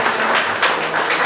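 At an art exhibition opening for Krystyna Dąbrowska's work, a roomful of guests claps in a dense, steady patter, close and fairly loud throughout the short burst.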